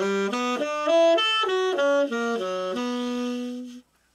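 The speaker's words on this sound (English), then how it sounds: "So I'll play it in my A on tenor to start." Solo tenor saxophone playing a slow rubato melody in concert G, about a dozen legato notes moving up and down before one long held final tone, close and clear with no talk.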